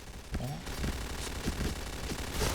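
Light machine gun firing in the online shooter Point Blank, a short sequence of several sharp, closely spaced shots, near and fairly loud, with a voice speaking briefly underneath.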